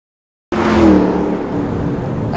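Supercharged 5.8 litre V8 pace car engine with 662 horsepower running at speed at a Nationwide Series race: a loud, steady engine roar that starts abruptly after a short silence and holds throughout.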